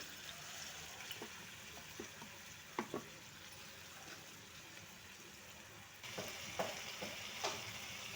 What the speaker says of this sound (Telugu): ఆయిల్ వేసిన తర్వాత ఇలా వీటెక్కిన తర్వాత ముందుగా కలుపుకున్న రొయ్యల్ని ఇలా వేసేయాలి